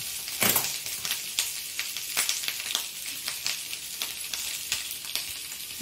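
Grated coconut roasting over a gas stove flame, a soft crackling sizzle with scattered sharp pops and ticks, close and fairly quiet, no talking.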